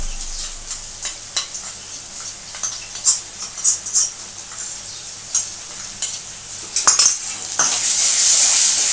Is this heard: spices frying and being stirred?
yes